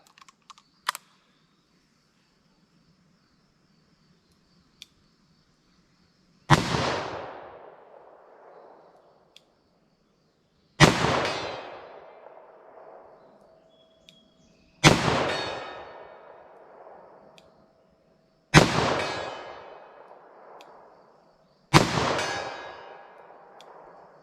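Five sharp, loud handgun shots from a .38 Special fired with Fiocchi +P defensive ammunition, spaced a few seconds apart. Each crack is followed by a short decaying ring, and small clicks of handling come before the first shot.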